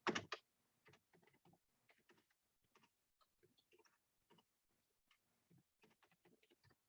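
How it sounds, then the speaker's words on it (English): Quick, quiet taps on a computer keyboard come in short, irregular bursts after one sharper click at the start, soft and close in an otherwise silent room. "I'm just typing in something quick and easy."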